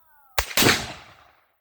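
A Traditions Hawken black powder rifle fires with a slight hang fire: a sharp pop from the cap, a split-second pause, then the loud main boom rolling off into a fading echo.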